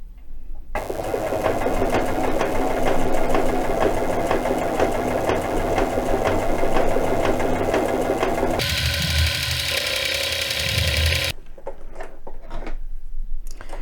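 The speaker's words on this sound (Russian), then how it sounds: "Строчка у нас получается эластичная, как бы в одну вперед-назад идет. Итак, прошиваем." A household sewing machine stitches an elastic seam in a fast, steady mechanical whir with rhythmic needle clatter, close and loud, before it slows and stops, followed by a few soft handling clicks.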